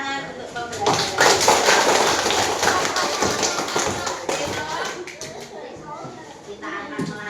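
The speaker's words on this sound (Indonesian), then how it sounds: "Tepuk tangan untuk pembelajaran." Children applaud together in an elementary science class, a dense, fairly loud burst of many small hand claps lasting several seconds before thinning out, with classroom voices mixed in.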